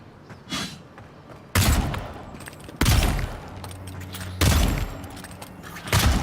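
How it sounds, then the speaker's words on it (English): Pistols fire in a western shooter game as four loud, sharp shots spaced roughly a second apart, each followed by a short echoing tail over low background game ambience. "Rootin' tootin' pistols, man."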